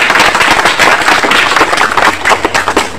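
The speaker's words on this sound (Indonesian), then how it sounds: "Tepuk tangan dulu buat Bapak Ibu dulu" A dense, loud burst of audience clapping at a church gathering, steady and close throughout with no talk over it.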